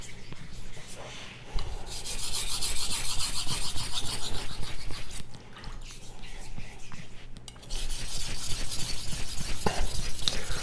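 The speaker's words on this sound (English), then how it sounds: "I'm just going to do a sharpening real quick with this knife." A knife is sharpened on a whetstone with a steady rhythmic rasp of repeated strokes, close and fairly loud, with short breaks between sets.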